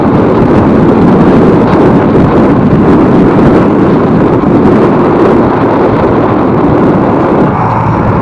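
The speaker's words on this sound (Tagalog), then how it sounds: "Grabe, napakalakas yung hangin." Strong wind roars and buffets the microphone in a steady, loud rush, with a low rumble underneath and no speech.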